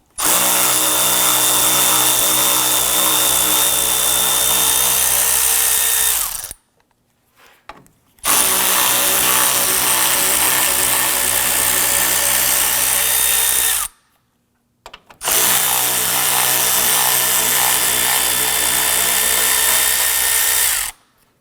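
A power driver with a 10mm socket loosening and removing bolts on a 2015-2020 Ford F-150 grille area, three loud sustained whirring bursts separated by short pauses, close up with no talk.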